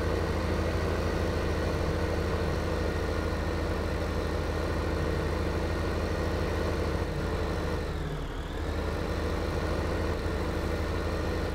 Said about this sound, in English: Then we got to get this tractor